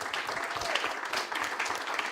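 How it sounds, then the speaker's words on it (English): A church congregation claps during a Sunday service, a dense, even patter of many hands that continues without a break and with no voices over it. "All right, you may applaud."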